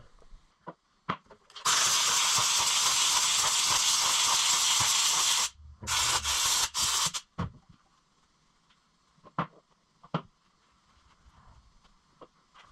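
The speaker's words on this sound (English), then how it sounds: "I'll take the air hose to it, blow it out from the inside out like you would any other filter" An air hose blows out a sprint car filter from the inside, a loud sustained hiss of compressed air followed by several short bursts, with faint clicks and handling noises around it.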